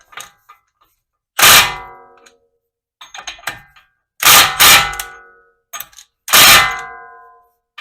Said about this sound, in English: use my punch tool, hit it with the hammer in the center.